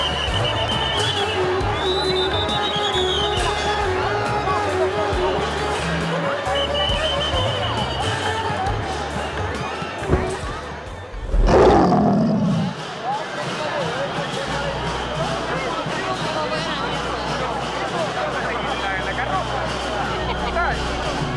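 A large crowd gathers in a square in old Kathmandu as the Kumari, the living goddess, proceeds north through the town. A dense, steady babble of many voices fills the whole stretch, with a brief louder surge near the middle.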